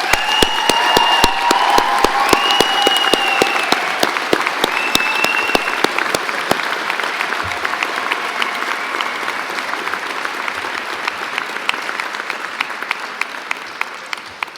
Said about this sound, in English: So let's give them too a round of applause.